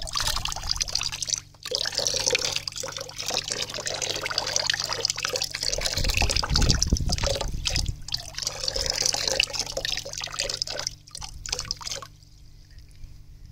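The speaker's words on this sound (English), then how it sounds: "slowly adding my pond water in" Pond water pours and trickles steadily into a koi bag, splashing continuously with a fuller gush midway before stopping near the end.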